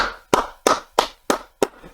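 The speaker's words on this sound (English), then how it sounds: "give yourselves a round of applause" Six sharp, separate hand claps at an even, steady rhythm, close and fairly loud, with near silence between them.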